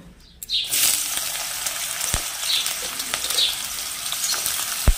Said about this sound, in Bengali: তেলটা গরম হয়ে এসছে, এবার আমি আগে উচ্ছেটা ভেজে নেব।